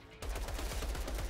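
Rapid gunfire from snipers in the shooter game Outriders rattles out in a fast, even burst of repeated loud cracks, close and continuous after a brief quiet start, with no talking.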